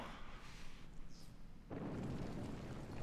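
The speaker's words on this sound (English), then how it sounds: "Or maybe we are with that explosion." A deep, rumbling explosion erupts in the Final Fantasy 7 Remake video game, a sudden heavy burst midway that swells into a loud, sustained roar over a noisy background.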